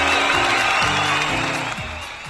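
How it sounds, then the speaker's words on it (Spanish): Audience at a tango variety TV show applauding to welcome a guest, a short burst of clapping that fades gradually over a couple of seconds, with musical tones sounding in the background. "fuerte aplauso para recibir al amigo Tito Cardoso."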